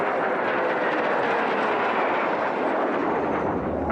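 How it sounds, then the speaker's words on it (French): A Patrouille de France jet airplane flies a crossing manoeuvre over Méribel, producing a loud, broad, continuous roar that holds steady throughout. "comme pour cet avion qui va effectuer un croisement"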